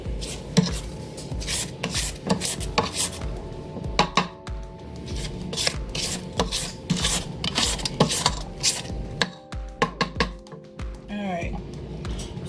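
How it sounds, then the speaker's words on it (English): Scraping down a mixing bowl of 7 Up cake batter, with repeated close scrapes and taps of a utensil on the bowl in an uneven rhythm, mixed with clatter and some voices. "While I'm in here, might as well go and scrape it down."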